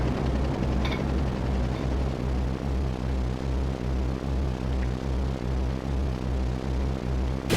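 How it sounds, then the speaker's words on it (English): Helicopter of the Airbuster techno soldier in the video game Final Fantasy 7, a steady loud rotor drone with a regular low thumping pulse and constant engine whine throughout, no voices. "He's going to escape on his fancy helicopter."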